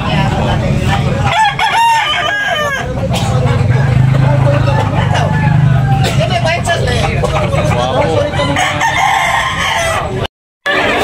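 Roosters for sale at a gamecock market in Tabunok, Talisay, Cebu crow loudly and repeatedly over a busy crowd, with clucking and someone talking continuously close by.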